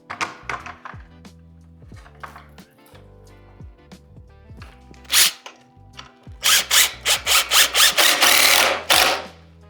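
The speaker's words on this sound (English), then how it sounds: "Now I like to just pre-drill a screw in there." Cordless power drill pre-drilling a screw into a heavy duty pocket door frame, short whirring bursts at first, then a rapid run of loud pulsing grinding spurts, close with clicks and handling noise between.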